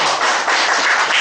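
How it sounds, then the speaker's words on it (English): An audience at a speakers forum meeting applauds in a short, dense burst of clapping that is loud and steady throughout. "You must give him a big round of applause."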